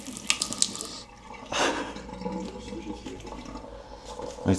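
Water runs from an old tap in an abandoned house, a steady splashing gush with a surge partway through, close by and alone.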